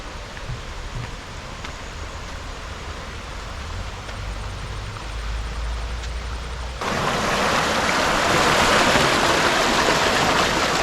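Continuous rushing water of Kuthumkal Waterfalls near Munnar, Kerala roars nearby, growing noticeably louder and brighter partway through, with no talking.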